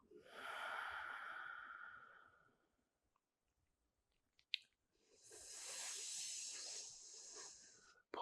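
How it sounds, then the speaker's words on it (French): A cooling breath drawn in through the mouth and teeth during a yin yoga practice. It comes as two long, close hissing inhalations separated by a few seconds of silence and a faint click. "Prends conscience du son émis par cette respiration."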